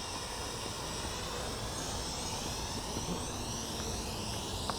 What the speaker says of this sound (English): It's just landing down.